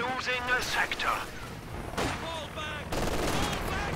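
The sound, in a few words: strafe gunfire run in the video game Company of Heroes 2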